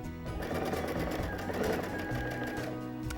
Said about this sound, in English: So continue sewing, stopping and removing each pin as you come to it so you don't sew over the pins.